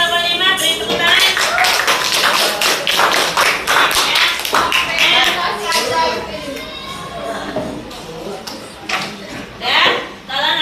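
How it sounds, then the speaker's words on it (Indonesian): Ninth-grade students in a classroom clap for a presenting group, a burst of quick, fairly close clapping mixed with children's chatter and laughter that thins out toward the end. "Oke, kelompok 5 beri tepuk tangan."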